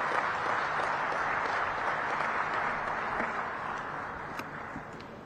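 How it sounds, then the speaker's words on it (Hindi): Audience applause welcoming the Prime Minister at an expressway inauguration event in Rajasthan, dense sustained clapping from a large crowd that holds steady and then slowly fades over a few seconds. "तालियों से स्वागत माननीय प्रधानमंत्री जी का।"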